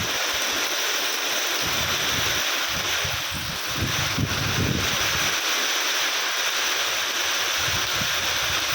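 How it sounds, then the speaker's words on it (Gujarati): Heavy rain lashes down amid gusting wind beside flooded fields, a loud, continuous roar with buffeting wind bursts hitting the microphone. "પવન છે પણ ખૂબ પાણી જાડા છાંટાથી પડી રહ્યું છે"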